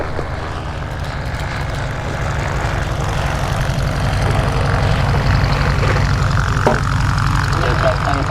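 A light aircraft landing at EAA AirVenture Oshkosh: a loud, steady propeller-engine drone that builds slightly as the plane comes in close.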